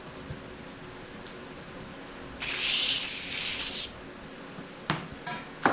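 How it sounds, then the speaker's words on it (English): A steady hissing spray of brake cleaner onto a chainsaw bar bursts for about a second and a half, loud and broadband, followed by a few short clicks and rattles nearby. "Let me spray some brake clean in this real quick."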